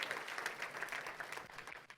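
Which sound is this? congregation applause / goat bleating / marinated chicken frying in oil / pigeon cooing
congregation applause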